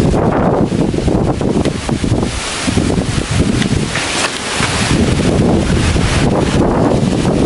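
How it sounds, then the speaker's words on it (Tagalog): Strong gusting typhoon wind roars steadily and loudly against the microphone in Roxas, Isabela, a constant buffeting rush with no break throughout. "Hindi pa rin po tumitigil yung hangin."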